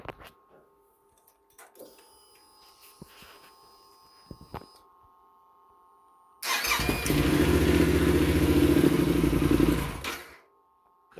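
A Yamaha Super Tenere motorcycle, fitted with a fresh battery, sits quietly with faint clicks and a whine before the starter cranks briefly and the engine fires, running loud and steady for a few seconds then shutting off.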